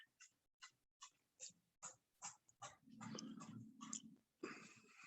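A dog barks indoors in a home kitchen with the window and door shut: a faint string of short, evenly spaced woofs that build into a rougher, denser burst, with no talking.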